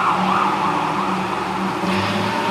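An ambulance siren passes along a road, a steady wailing tone running continuously under dense traffic rumble throughout.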